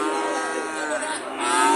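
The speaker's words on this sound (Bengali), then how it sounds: "দেখতে পাচ্ছেন অনেক বড় সাইজের একটি গরু এবং সার গরু" A large Friesian bull at a busy cattle market lets out a single loud, sustained moo, close and unbroken, with no talk over it.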